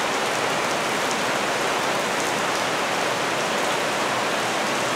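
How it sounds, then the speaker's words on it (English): Summer rain falling outside a home with a small garden: a dense, steady hiss of rainfall, loud and continuous, with no voices. "So it is raining after all that sun all week, our first week here."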